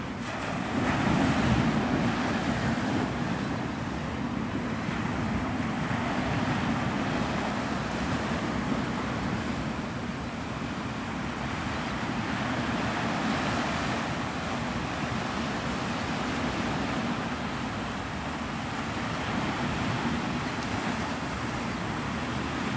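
Ocean surf rolls in steadily at Pensacola Beach, Florida as the tide comes in, a continuous wash of waves with wind buffeting the microphone throughout and no voices.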